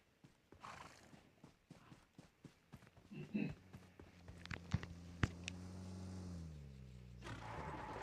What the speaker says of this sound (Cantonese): 有隻馬好似